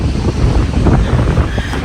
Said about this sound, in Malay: Angin ni kuat dia.